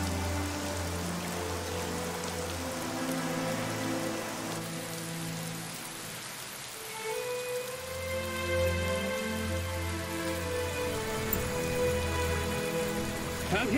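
Heavy rain falls in a steady, even hiss of drops striking surfaces, running continuously beneath soft background music with no voices.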